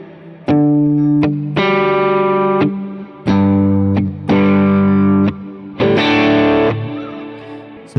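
Electric guitar played through a Boss RV5 reverb pedal on a pedalboard, several loud sustained chords each ringing out with a reverb tail before the next strum, with no talking.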